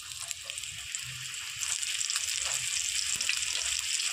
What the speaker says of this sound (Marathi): फ्राय करायचं.